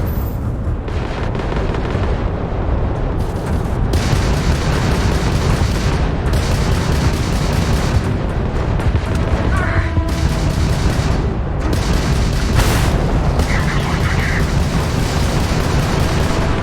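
Spaceship weapons fire and explosions in the game Starfield: a loud, sustained barrage of blasts and booms with brief gaps and short electronic tones in between.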